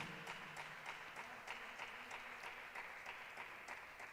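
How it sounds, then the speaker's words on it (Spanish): Quiet applause from a church congregation, a soft steady patter of clapping with faint periodic accents, distant and low in level throughout. "Dale un aplauso a tu Señor, hermano."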